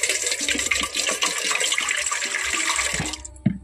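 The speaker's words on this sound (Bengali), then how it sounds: "এর মধ্যে আমি জল দিয়ে দেব।" Water poured from a vessel into a bowl in a home kitchen, a steady continuous splashing gush for about three seconds that stops abruptly, followed by a single small clunk.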